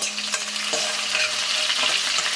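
Curry leaves, onion and tomato fry in a pan for a curry, a steady close hiss with a few brief stirring scrapes and no talk.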